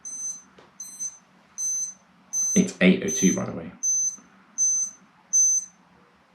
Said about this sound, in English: you'll immediately be told the time via an audible Morse code